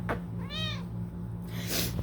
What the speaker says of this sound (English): for my cat, who's right here